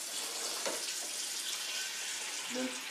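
Tap water pours steadily into a kitchen pan holding leftover scrambled egg, a full, close hiss of running water with slight splashing changes.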